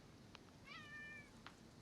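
A rescue cat being picked up lets out a single drawn-out, fairly faint meow, with brief small noises just before and after against a soft background hiss.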